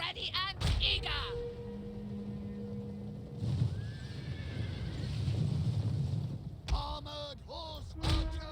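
Horses in the battle game Total War: Rome 2 give several loud whinnies at the start and again near the end, over clopping hooves, a busy battlefield din and shouted unit calls.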